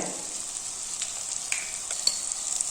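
Chili powder and chicken masala frying in oil in a pan, a steady close hiss with a few small spoon scrapes and pops, no voices.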